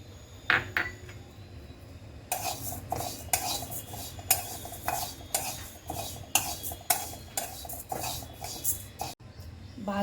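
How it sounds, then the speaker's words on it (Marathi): Moong dal and urad dal dry-roasting in a pan, a metal spoon clinking and scraping against it in quick, busy, repeated strokes, close by and moderately quiet, with no talking. "आता मूग डाळ आणि उडदाची डाळ भाजूयात."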